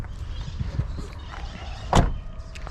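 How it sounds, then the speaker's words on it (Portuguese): Trunk of a Ford Fiesta 1.6 hatchback being opened, with a sharp mechanical latch clunk and brief thump near the end, following a few softer clicks and handling noises. "Vou abrir o porta-malas para mostrar para vocês também."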